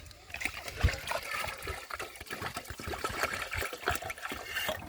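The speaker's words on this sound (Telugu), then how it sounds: "ఇట్లా నీళ్ళు పోసుకుని నానబెట్టుకుని" Water is poured over washed rice in a bowl to soak it, a splashing trickle with irregular bursts as the stream hits the grains, close by and fairly clear.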